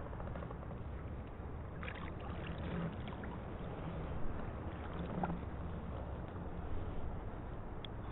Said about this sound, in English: Today I've gone for a little outing in my kayak.